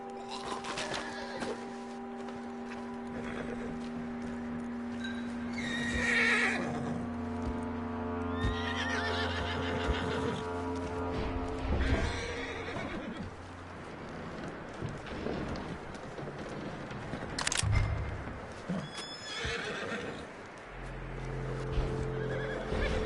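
A horse in a Red Dead-style video game whinnies loudly and snorts while hooves clop, with in-game ambience and other game sounds throughout; no speech.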